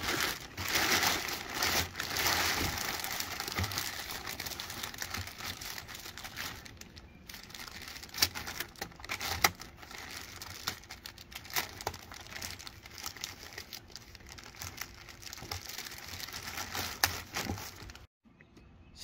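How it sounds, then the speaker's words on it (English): Two desiccant packs being placed into an inner plastic bag during maintenance of a P6 pump, giving steady close crinkling and crumpling of plastic with scattered sharp crackles, continuous through the clip and ending abruptly. "Place two new Desi packs into the inner plastic bag."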